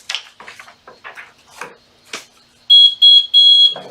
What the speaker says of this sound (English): Timer means we're done.